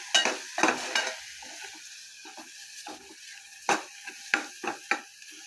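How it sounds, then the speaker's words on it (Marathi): Turmeric, garam masala and Malvani chili masala are stir-fried in a pan, heard as soft, intermittent scraping and stirring strokes over a faint sizzle, close by and fairly quiet. "पाव चमचा गरम मसाला आणि हा आपला मालवणी तिखट मसाला, तोही मी छान परतून घेणार आहे"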